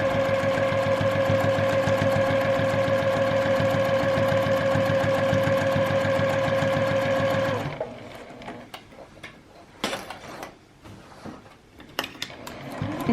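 A sewing machine stitches steadily around the edge of fabric for an advent calendar, a fast even mechanical whir with a humming motor tone, close and loud, then stops abruptly, leaving scattered handling clicks and rustles.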